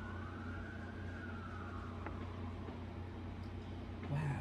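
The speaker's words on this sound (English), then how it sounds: "Look how loud them sirens got." Emergency vehicle siren heard from outside, a steady wailing tone slowly rising and falling over a constant low rumble, moderately loud and continuous, with a voice briefly at the end.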